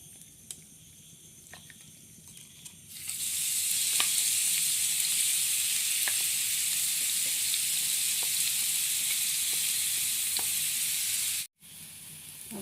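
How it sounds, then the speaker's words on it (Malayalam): Ground masala paste sizzles steadily in hot oil, starting as a quieter hiss, then jumping to a loud, sustained fry after about three seconds, with occasional stirring clicks, and a brief cut near the end. "നമുക്ക് ഈ അരച്ച മിക്സ് ചൂടായ എണ്ണയിലിട്ടിട്ട് വഴറ്റിയെടുക്കാം"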